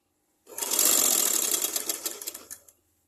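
An electric sewing machine stitching fabric in a tailoring setting runs in one loud, continuous burst of rapid mechanical clatter lasting about two seconds, then tapers off and stops.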